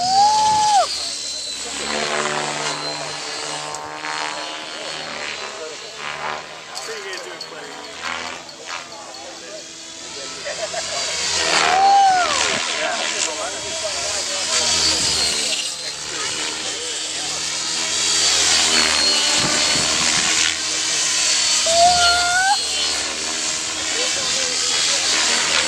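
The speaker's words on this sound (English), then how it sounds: "This helicopter is also powered by an electric motor with a battery." A battery-powered electric model helicopter flies at an open house, its steady whine and rotor hiss rising and falling as it passes, with cheering and talk from onlookers over it.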